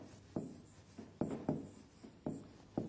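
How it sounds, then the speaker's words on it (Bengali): Chalk or marker writing a word on a classroom board during a live science class, several short scratchy strokes in an irregular rhythm, close and fairly quiet, with no talking. "তাহলে আমি শব্দটা একটু লিখছি"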